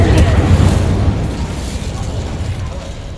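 Incendio fire spell cast in the Hogwarts Legacy video game: a loud, close burst of flame with a booming, rumbling roar that swells at the start and then settles into a steady crackling rush.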